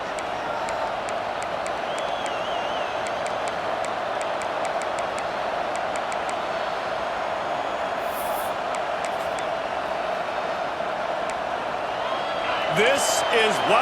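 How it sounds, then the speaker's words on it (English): Stadium crowd at a college football game between NC State and Ole Miss, a steady dense roar filling the whole span with scattered whoops, swelling slightly louder near the end. "This crowd ready to make its presence known."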